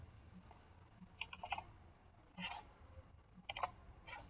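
Faint, crisp computer mouse clicks, double clicks on a feature in ArcGIS Pro mapping software, come in small paired bursts spaced a second or so apart over a quiet room hum.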